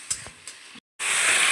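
Poppy and sesame paste masala fries in a pan, giving a few soft ticks and then a steady hiss of sizzling after a short break in sound.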